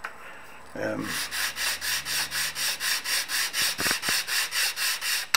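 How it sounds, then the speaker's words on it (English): A piece of cane reed for an uilleann pipes chanter is rubbed back and forth on a sheet of sandpaper laid on a flat surface, giving about sixteen even rasping strokes in a steady close rhythm. "You can simply grind the piece of cane down."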